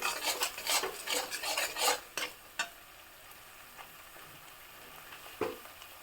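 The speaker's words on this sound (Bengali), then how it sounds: "দিয়ে দিচ্ছি হলুদ, মশলাটাকে একটু কষিয়ে নেব।" Ground spice paste with turmeric is stirred in a pan, with quick scraping strokes at first, then a few sparse, quieter scrapes over a soft low sizzle.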